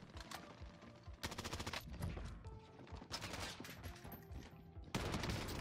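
Sniper and automatic gunfire in the video game Warzone, with repeated sharp shots and rapid bursts coming in several waves, loud and close over a busy in-game soundscape.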